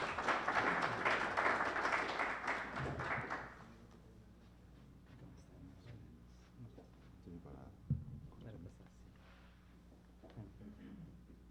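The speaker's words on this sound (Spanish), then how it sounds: "por favor un fuerte aplauso" Audience applause greeting the engineer invited to give a talk on safety and relief valve selection, a loud, dense round of clapping for about three seconds that then stops, leaving quiet room noise.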